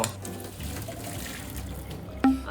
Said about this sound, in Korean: 이 콩 삶은 물 있잖아요 이 물을 조금 넣어서 농도를 잡아줘야 됩니다